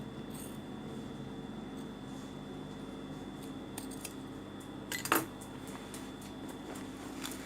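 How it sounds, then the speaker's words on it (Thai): Scissors trim excess fabric from a freshly sewn seam beside a zipper, several quick crisp snips clustered near the end over a quiet room hum, with no talking. "เราตัดส่วนเกินออกนะคะ"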